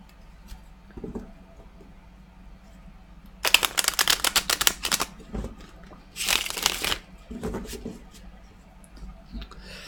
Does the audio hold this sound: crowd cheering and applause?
no